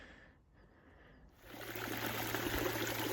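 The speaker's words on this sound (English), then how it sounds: "And there we have the finished waterfall, the biofalls completely hidden." Water trickles and splashes over an Aquascape Biofalls waterfall dressed with cobbles, quiet at first and then swelling into a steady, close rushing flow that continues to the end without talking.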